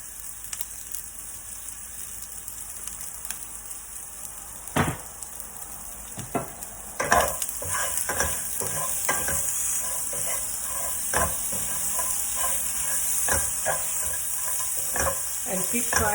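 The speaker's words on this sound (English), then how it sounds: "just saute them until they are nice and brown" Steady sizzling of onions frying in a pan, with repeated scraping and clacking of a utensil stirring throughout.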